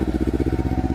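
A motorcycle engine is blipped with a little gas, a close, loud pulsing throb repeating in quick even beats for a second with no talk.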